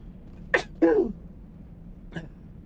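A single sharp sneeze bursts out close and loud, followed a moment later by a second, heavier expulsion, then a faint sniff or breath trails off in a quiet room.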